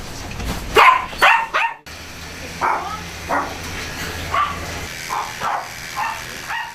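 A dog barks and yips repeatedly in short bursts, fairly close, with more barking scattered through a busy dog grooming salon where a dog's long fur is being clipped.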